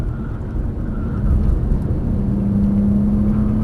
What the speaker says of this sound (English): Brake, downshift once.